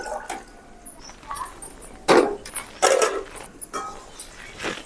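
Ration rice being rinsed by hand in water while cooking, with close splashing and sloshing bursts in irregular pulses, a few louder swishes in the middle, no talking.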